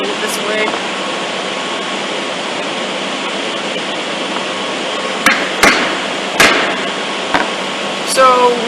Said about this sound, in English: So when I'm chiseling from the inside, I don't need to worry about which angle the chisel is